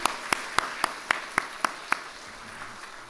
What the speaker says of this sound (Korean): 이 마음으로 박수하겠습니다.